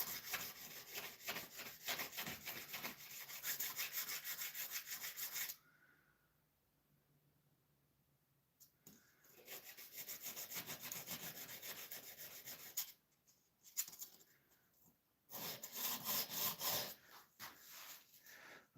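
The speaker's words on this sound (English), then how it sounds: "I'm just going to take a little sandpaper to them" Antique woodcarving tools, soaked in vinegar, are lightly rubbed with sandpaper in quick scratchy bursts of back-and-forth strokes, close and fairly soft, separated by a few quiet pauses.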